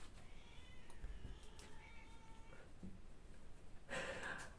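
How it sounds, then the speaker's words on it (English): Cats fighting in the background near a water heater setup, with wavering yowls and meows running through the first few seconds and a louder scuffling burst toward the end, all faint under a steady room hum. "I've got cats fighting in the background."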